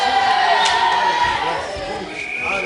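Studio audience for a Macedonian TV music show filing in, a dense crowd murmur and chatter with some raised voices, steady and fairly loud throughout.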